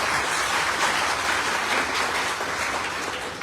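Audience applause at a gathering of people helped out of debt, a dense, steady wash of many hands clapping at an even level throughout, with no voices over it.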